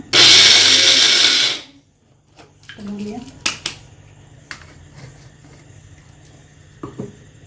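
A mixer grinder whirs loudly as it grinds cashews, a dense high-pitched roar lasting about a second and a half before stopping abruptly, followed by clinks and knocks of the jar and quiet kitchen sounds.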